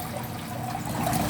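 Water drains steadily in an ornamental fish aquarium, giving a continuous close rushing and gurgling wash that stays even throughout.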